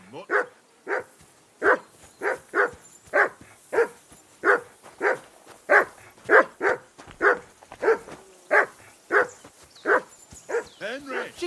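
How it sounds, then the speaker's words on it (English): A dog in the medieval video game Kingdom Come: Deliverance 2 barks repeatedly in an even, insistent rhythm of about twenty sharp barks, fairly close, with a few yips near the end. "Henry, that barking's driving me nuts."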